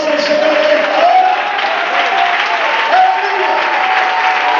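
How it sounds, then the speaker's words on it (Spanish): A church congregation claps at a Sunday school service, a broad continuous wash of applause with a voice or sustained tone running through it. "¿Puede darle un aplauso al Señor de esta hora?"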